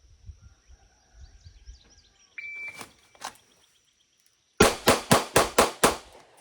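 A Glock 27 pistol fires a quick string of six sharp, loud shots in rapid, even succession, preceded by a shot-timer beep and a couple of faint clicks and handling noises.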